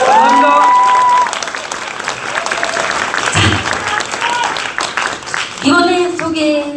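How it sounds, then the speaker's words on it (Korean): Applause and some cheering from a crowd at a Democratic Party political event in Daegu–Gyeongbuk, a steady wash of many clapping hands, with a voice speaking over part of it. "다시 한번 큰 박수 부탁드리겠습니다."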